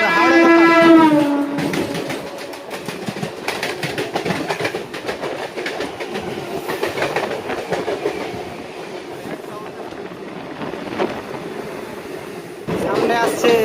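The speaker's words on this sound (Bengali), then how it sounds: "সামনে আসছে হাওড়া লোকাল।" A Howrah local train passes close by on the line near Santragachi, opening with a loud horn blast and then a steady, roaring rumble and rhythmic wheel clatter that lasts throughout.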